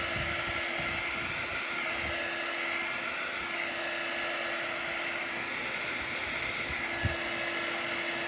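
Hair dryer blowing on freshly painted doormat, a steady high whirring hum with a fixed tone, unbroken and fairly close, with a faint tap near the end.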